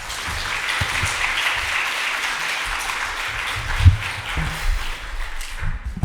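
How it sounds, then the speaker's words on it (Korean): An audience at a Korean church Bible conference applauds to welcome a pastor to the front, steady clapping with a few louder thumps and footsteps, tapering off near the end. "도지원 목사님 나오실 때 박수로 환영해 주시기 바랍니다"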